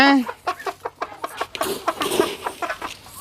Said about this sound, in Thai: ตัวนี้ก็เริ่มเป็นหนุ่มแล้วเริ่ม เริ่มหัดขันแล้ว